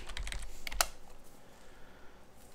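Quick run of computer keyboard keystrokes as a password is entered, a brief flurry of close, quiet taps with one sharper keypress, then near silence.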